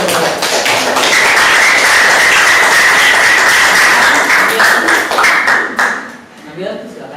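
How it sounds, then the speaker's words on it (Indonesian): A classroom breaks into applause, with dense, fast clapping from many students that holds steady for about six seconds and then thins out, and voices mix in near the end. "Ya, aplaus."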